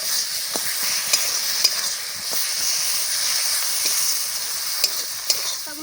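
Dried fish (shutki) sizzling steadily in a hot pan with spice paste up close, broken by sharp scrapes and taps as it is stirred and turned.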